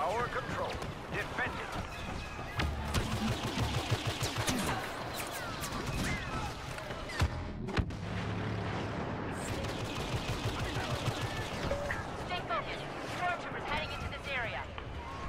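Blaster fire in the Star Wars Battlefront video game: a dense, continuous battle din of rapid zapping shots and impacts, loud and close, with voices talking over the fighting.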